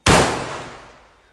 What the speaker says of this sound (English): Haven't had a fireworks video in a while.